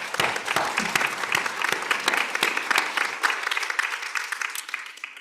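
Sustained applause fills a plenary hall at an international statistics forum, with many hands clapping in a dense, even crackle that fades slightly near the end.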